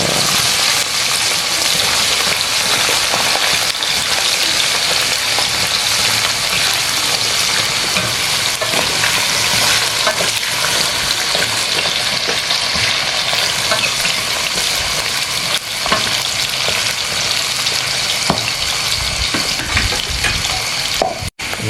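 Jengkol beans fry in hot oil with a steady, loud, dense sizzle that runs unbroken throughout, with occasional stirring and a brief clatter near the end.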